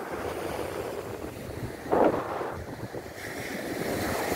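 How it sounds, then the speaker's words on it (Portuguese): A rough sea surges and crashes along a coast beside a freshwater lagoon. The surf is a steady, fairly soft rush mixed with wind buffeting the microphone, and one brief swell of crashing water comes midway. "O mar com a sua braveza."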